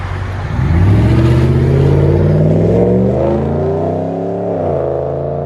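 A 2016 RAM 1500 with a 5.7L Hemi V8 and a Flowmaster Outlaw dual exhaust revs up hard and holds a loud, deep, raspy roar, then the pitch rises and settles. Close and continuous, with no talking.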